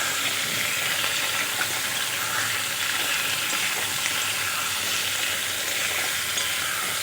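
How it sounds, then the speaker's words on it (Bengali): Taro and potatoes frying with onion in a pan, giving a loud, continuous sizzle that runs steadily from start to finish with no talking. "এখন আমি কচু আর আলু দিয়ে দেব। একসাথে ভালো করে ভেজে নেব।"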